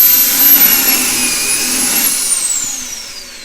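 Kreg Foreman pocket hole machine drilling into poplar hardwood, one sustained high motor whine and cutting roar lasting a few seconds, loud and close, tapering slightly at the end.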